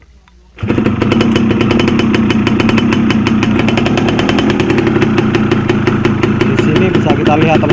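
A Yamaha F1ZR two-stroke motorcycle engine starts abruptly after a quiet moment, then runs at a loud, steady, buzzing idle close by without letup.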